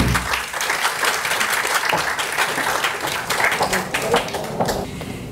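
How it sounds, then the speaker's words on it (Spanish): Audience applause at a Spanish-language book presentation on living with HIV, a dense, steady burst of many hands clapping that carries on for several seconds without a break. "un aplauso para Susana"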